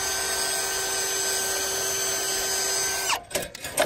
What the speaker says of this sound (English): But go ahead and run the drill all the way down.